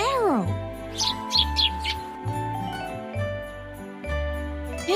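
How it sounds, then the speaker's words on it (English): A sparrow gives a quick cluster of short, bright chirps in the first couple of seconds, then sparse fainter tweets over a low, steady musical background. "Sparrow."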